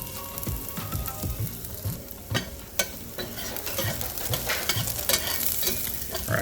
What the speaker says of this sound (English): as we're sauteing these